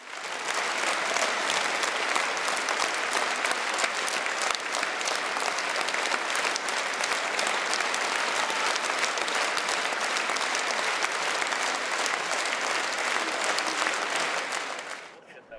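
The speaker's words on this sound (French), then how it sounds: "s'est terminé par la 8e symphonie de Dvorak, applaudie longuement par des mélomanes" A concert hall audience in Saint Petersburg gives long, dense, continuous applause after a Monte-Carlo Philharmonic Orchestra performance of Dvořák's Eighth Symphony, loud and steady before fading out at the end.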